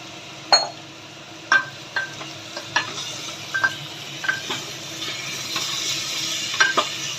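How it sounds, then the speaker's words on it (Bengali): Potatoes and tomato stirred in a frying pan, a soft sizzle running underneath while a utensil scrapes and clinks against the pan in irregular strokes; close and moderately quiet, with no voices. "আলুটা দিয়ে নাড়তে থাকবো"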